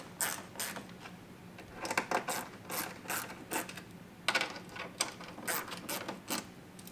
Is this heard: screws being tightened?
yes